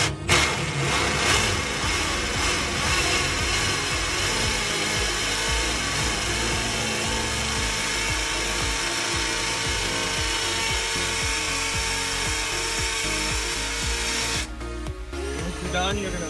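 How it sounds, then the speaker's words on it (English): A power drill bores a hole into a concrete slab for a Red Head anchor, a loud, continuous grinding whine with rattling hammer texture that runs steadily before cutting off near the end. "Tape on the drill, we're going to drill,"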